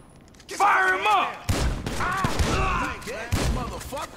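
Gunfire in a Grand Theft Auto V mission, The Long Stretch, with Franklin, Lamar and Stretch. Loud, booming shots land in uneven bursts, mixed with shouted game dialogue and a musical score.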